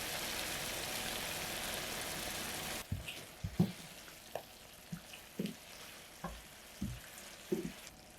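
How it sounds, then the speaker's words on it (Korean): Sauce reduces in a covered pan over low heat: a loud, even sizzle gives way to quiet, scattered bubbling pops. "뚜껑 덮고 약불에서 소스가 졸여지면 완성이에요."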